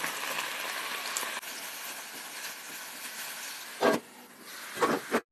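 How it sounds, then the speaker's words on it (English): Beef strips fry in oil in a covered pan, making a steady broad hiss that runs evenly throughout, with a couple of louder crackling flare-ups near the end and no voices. "put your beef in oil and now cover and fry for 5 minutes"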